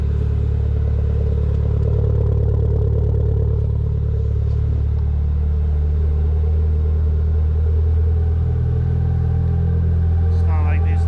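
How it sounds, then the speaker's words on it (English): A Mitsubishi Eclipse GSX engine with a blown head gasket idles cold, steadily, with a low, uneven rumble and light mechanical clatter, loud and close, holding constant throughout. "there's the cold idle"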